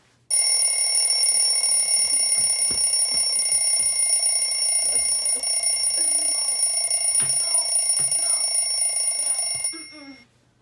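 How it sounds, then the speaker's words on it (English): An alarm clock rings loudly and continuously for about nine seconds, a bright metallic ringing, then cuts off abruptly. "you have to set your own alarm"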